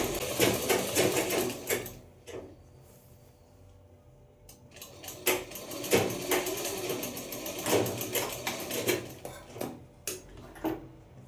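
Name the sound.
sewing machine stitching a pajama seam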